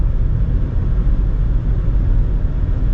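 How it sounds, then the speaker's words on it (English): A Volkswagen with a small 1.5-liter engine growls in stop-and-go traffic, heard from inside the cabin as a loud, steady low rumble that continues without a break. "It's got a little bit of a throaty growl to it."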